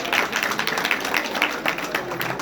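A crowd claps in a fairly even rhythm, hands beating together in quick repeated bursts at moderate loudness, at a school Independence Day celebration.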